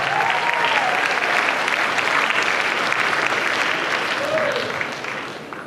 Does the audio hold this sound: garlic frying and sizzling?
no